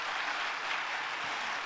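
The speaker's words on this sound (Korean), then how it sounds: "박수 한번 쳐봐." A church congregation claps during a Sunday sermon, a dense, steady wash of many hands that holds at an even level for under two seconds.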